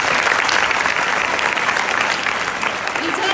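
An audience at a school gathering applauds a teacher, a dense, continuous wash of clapping hands, loud and close, holding steady the whole time.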